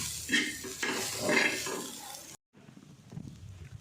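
Green peas being sautéed and stirred in a pan for matar nimona, a steady close sizzle with scraping spoon strokes that drops out briefly, then returns quieter.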